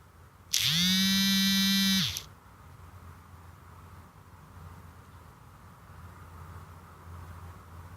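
Electric hand mixer beating semolina cake batter for basbousa, a loud steady whir that starts abruptly, runs about a second and a half, then cuts off into quiet room hum.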